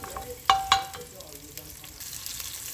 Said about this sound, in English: let the garlic and the butter simmer a little bit together